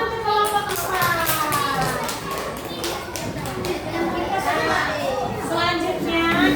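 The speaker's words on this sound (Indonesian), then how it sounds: "Tepuk tangan untuk kelompok 4." A classroom group claps for group 4, a dense, steady patter of many hands mixed with children's chatter and voices throughout.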